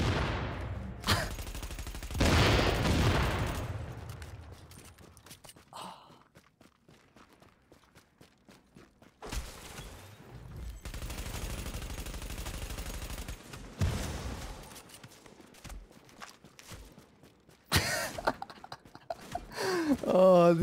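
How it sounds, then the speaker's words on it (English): Explosive bullets fire in The Division video game in loud staccato bursts, interspersed with footsteps and quieter stretches, while people talk throughout. "Dude, explosive bullets fucking rule."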